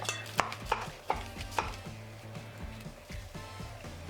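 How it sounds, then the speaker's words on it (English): Cooked baking potato is scooped from its skins with a utensil, giving several soft scraping knocks and taps early on, then quieter scraping over a low background hum. "So we've scooped out all the potato"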